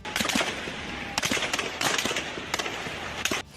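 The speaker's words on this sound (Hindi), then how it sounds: "दावा किया गया कि इस दौरान गोलियां भी चलाई गईं" Bursts of rapid gunfire crack out in clusters, sharp and fairly distant, over a noisy outdoor background during a street clash in Lahore with tear gas.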